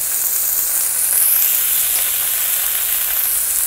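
Loud, steady sizzle of long beans hitting a hot pan alongside boiled mussels for a chili-paste stir-fry, a dense unbroken hiss of frying close up with no speech.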